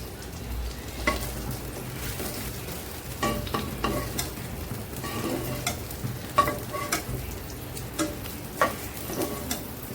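Spices tempering in a little hot oil in a pan after rui fish, eggplant and potato have been fried produce a continuous crackling sizzle with scattered sharp pops and stirring clatter, close and steady, with no talking.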